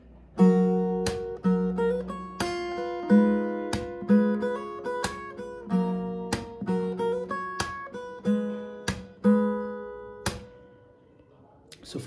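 A fingerstyle acoustic guitar picks a short section of a Hindi song, with a repeating pattern of plucked bass notes and chords, each ringing and decaying. It sounds close and clear before fading out near the end.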